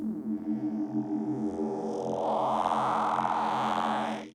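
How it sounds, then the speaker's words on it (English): Serum 2 wavetable synth vocal bass, a growling, formant-swept tone that scans backward through the wavetable so it sounds like a voice saying "why," sustained and loud for about four seconds. "it sounds like it says, why?"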